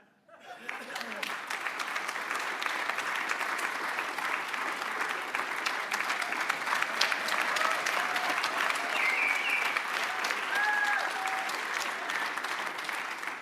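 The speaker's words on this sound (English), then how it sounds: "Seriously, thank you for that applause." A lecture audience applauds, sustained, dense clapping that fills the room at moderate distance, with scattered laughter and a few voices mixed in.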